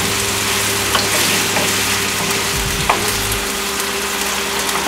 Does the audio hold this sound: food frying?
yes